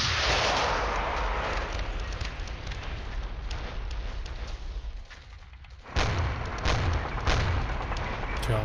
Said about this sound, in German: der Beschuss wird da fortgesetzt